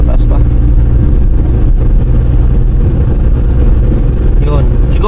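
A Hyundai Eon's small engine revs high in third gear, a steady loud drone from inside the car with someone talking over it throughout.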